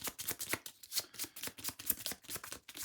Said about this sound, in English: I shuffled all the used cards back into the deck.